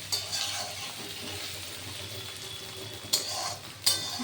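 Potatoes and onions fry for a vegetable tarka with a steady, soft sizzle in a pan, and a spoon stirs them with a couple of short clinks near the end, close and without talk.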